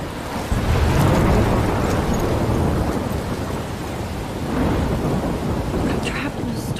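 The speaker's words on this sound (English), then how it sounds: "I'm trapped in a storm?" Thunderstorm in the Life is Strange video game, with steady heavy rain and a deep rolling thunder rumble that swells early and again near the end, loud and continuous with no talking.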